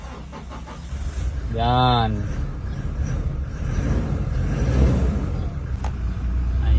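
Car engine started with a newly made key: a short starter crank whirs, then the engine catches and settles into a steady idle under a man's speech.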